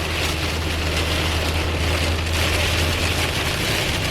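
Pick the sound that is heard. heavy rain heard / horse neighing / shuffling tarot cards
heavy rain heard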